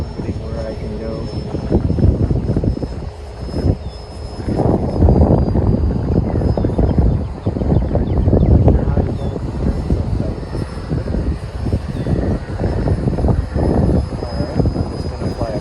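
An E-flite Habu STS RC model jet flies continuously through the clip, its steady engine whine holding a constant level under intermittent talk from someone nearby.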